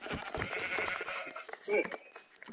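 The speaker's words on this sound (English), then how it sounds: "I found a black sheep." A black sheep bleats in the video game Minecraft, a short wavering cry under a player's talk and background game noise.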